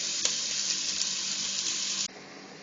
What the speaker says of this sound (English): Swirl a knob of butter in a stock pot and add your garlic and your onions, and then stir fry for about a minute